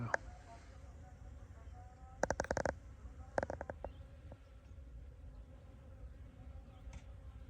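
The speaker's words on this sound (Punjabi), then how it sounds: "ਬਹੁਤ ਮੱਖੀ ਹੈ ਇਹਦੇ" Many flies buzz in a faint, steady drone close by, broken by a few sharp clicks and knocks partway through.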